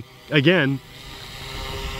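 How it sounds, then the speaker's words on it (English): A Fly Wing FW200 GPS RC helicopter hovers in wind, giving a steady, faint rotor whir and wind rush that continues after a brief spoken word near the start. "that helicopter is moving up and down so much"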